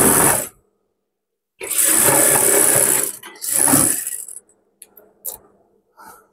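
A sewing machine stitches the joint of a churidar pyjama in two loud whirring bursts separated by silence, followed by a few small clicks and taps.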